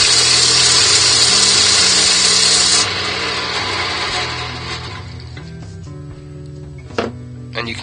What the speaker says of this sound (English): And this is sanding right across the centre line.